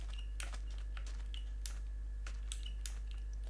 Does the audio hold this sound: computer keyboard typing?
yes